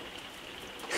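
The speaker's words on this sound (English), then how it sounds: "Got a bit of a torrential rain situation going on out here" Torrential rain pours outside an RV, a dense, steady hiss of heavy drops drumming on the roof and surroundings, close and loud throughout the brief moment.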